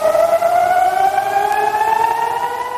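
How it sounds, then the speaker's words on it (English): An air raid siren wails across northern Israel during rocket fire from the Lebanese border, a single loud, sustained tone with harmonics that slowly glides upward and holds. "sirens sound in its north"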